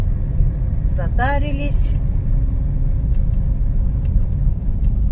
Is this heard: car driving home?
yes